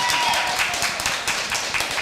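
A group claps its hands in quick, repeated strikes for about two seconds, fairly loud and close, with a voice faintly underneath.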